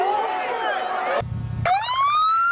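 Police car sirens wail in rising, sweeping tones, loud and close, with a short low rumble between bursts and people talking over them.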